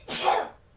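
One short, sharp sneeze, close and fairly loud, heard while a Runescape game is being played, with the sound quickly fading into quiet.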